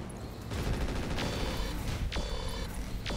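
Mech weapons firing in the video game RogueTech, a dense burst of overlapping gunfire and explosions with sharp repeated shots rolling continuously at close range.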